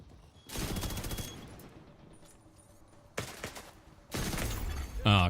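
Video game gunfire in The Division 2, with dense bursts of automatic shots in two long volleys separated by a quieter stretch, ending with a sharp blast.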